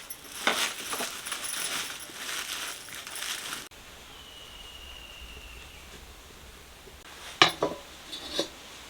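Fenugreek seeds roast in a pan for traditional wild mango pickle in a village kitchen: a rattling, scraping stir for a few seconds, a quieter pause, then a couple of sharp metallic clinks.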